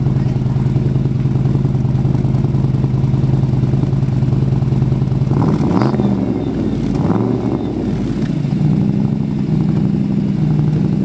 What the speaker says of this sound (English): I'll give it a couple revs for you.